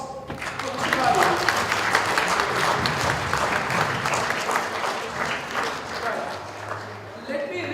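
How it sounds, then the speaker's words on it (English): An audience at a Sri Lankan Muslim community forum's annual general meeting applauds an award recipient with steady, dense clapping that fills the room and tapers slightly near the end. "Please give a round of applause for Mr. Bari."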